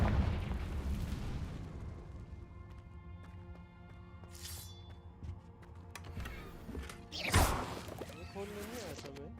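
A Confringo blasting spell explodes in the Hogwarts Legacy video game, a loud broadband burst near the end over busy game sound effects and music, with someone talking throughout.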